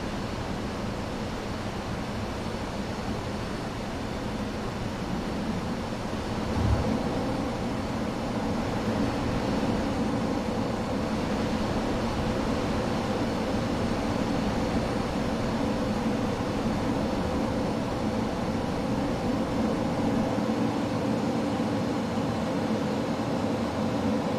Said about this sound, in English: Let's buzz the tower, the Honolulu tower.